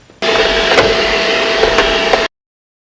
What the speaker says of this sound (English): I'm gonna vacuum other parts here just to make it extra clean.